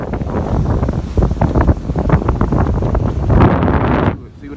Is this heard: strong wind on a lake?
yes